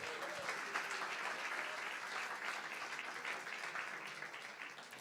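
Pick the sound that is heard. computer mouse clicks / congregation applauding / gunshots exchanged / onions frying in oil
congregation applauding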